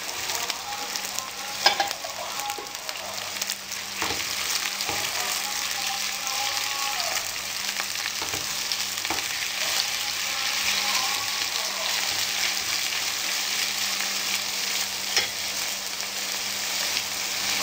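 Chopped chicken breast sizzles steadily in a pan with already sautéed onions for fajitas, a dense continuous frying hiss with occasional stirring knocks, close and fairly loud throughout.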